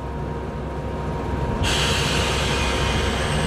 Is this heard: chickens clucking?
no